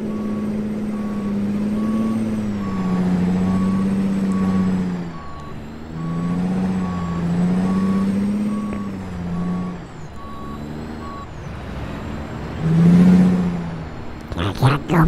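A rusty truck in the American Truck Simulator video game sounds loud, evenly spaced reversing beeps over a rumbling engine that swells and falls, with a brief hiss and revving near the end.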